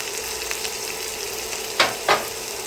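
An onion dropped into a hot pan for a crab and shrimp bisque, a loud steady sizzle with two sharp scraping stirs near the end, close up and without speech.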